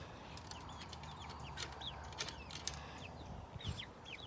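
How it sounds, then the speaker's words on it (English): Chickens cluck and chirp near a chicken coop, soft scattered calls and short rising peeps repeating over a faint background hum, with an occasional low thump. "Live with chickens."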